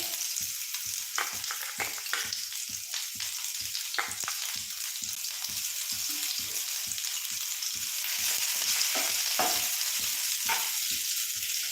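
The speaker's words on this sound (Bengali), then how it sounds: "তেলটা আমার গরম হয়ে এসছে তোমাদেরকে প্রথমে পেঁয়াজটা দিয়ে দিচ্ছি" Chopped onion sizzles steadily in hot oil in a pan for pasta, a continuous crackling hiss with regular scraping and tapping from stirring, with no voices.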